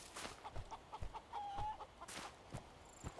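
Chickens in the survival video game Survival: Fountain of Youth give a few soft, scattered clucks, faint and brief, with light background noise between them.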